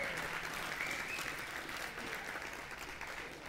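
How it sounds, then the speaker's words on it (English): A church congregation claps together in a sustained round of praise applause, a dense steady wash of many hands filling the room at a fairly even level throughout. "Would you give the Lord a praise clap here today?"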